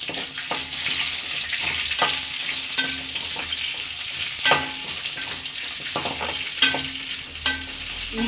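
Green chillies frying in a pan for a leafy amaranth chutney, a loud steady sizzle close by, with repeated scraping and stirring knocks at an uneven rhythm and no talking.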